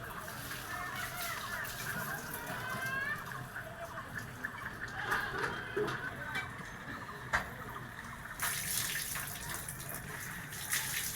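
Dishes are washed under running tap water at home, with a steady splashing flow and clinks against the sink; faint voices can be heard in the background.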